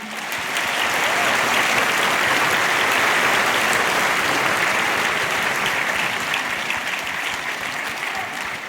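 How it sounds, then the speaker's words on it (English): Awards-ceremony audience gives employers and learning providers a sustained, dense round of clapping that holds steady for several seconds before easing slightly at the end. "a huge round of applause for every employer and learning provider"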